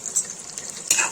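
Ghee and butter sizzling as they are stirred in a pan for malai chicken: a brief close crackle with a couple of scraping stir strokes.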